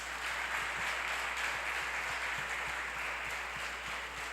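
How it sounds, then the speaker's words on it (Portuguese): A church congregation applauds during a family worship service, producing a soft, even patter of many hands that holds steady throughout, with a low hum running underneath. "Aplaude o Senhor bem forte."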